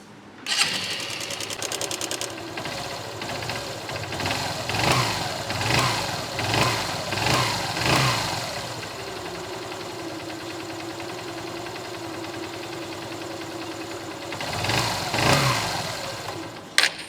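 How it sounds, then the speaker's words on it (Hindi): A motorcycle engine with engine noise runs close by, idling with a mechanical ticking, then revving in repeated bursts before settling back to a steady idle. "आपकी भी बाइक के इंजन में अगर आवाजें आ रही हैं"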